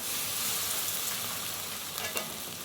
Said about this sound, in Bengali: এখন এগুলোকে ভালো করে পেঁয়াজের সঙ্গে মিশিয়ে নিচ্ছি।